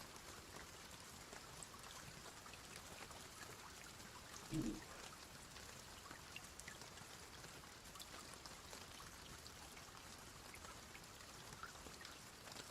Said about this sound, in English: Rain, rain, go away, don't come back for until another day